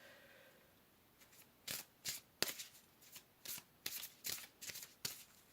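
Tarot cards being shuffled up close, a quiet series of about nine crisp riffling snaps in an irregular rhythm, with no talk.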